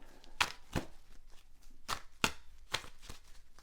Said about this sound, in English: So just going to shuffle your cards, and I'm using my Tower of Prague deck.